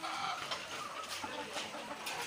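Backyard chickens, hens kept for meat and eggs, cluck softly and intermittently at a distance against a faint, noisy background.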